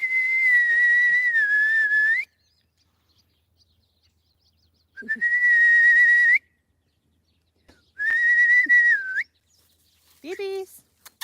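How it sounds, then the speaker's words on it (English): A person whistles out in a pasture to call horses in, three long wavering whistles separated by pauses, loud and close, followed by a short chirpy trill. "We'll see if they come into my whistling."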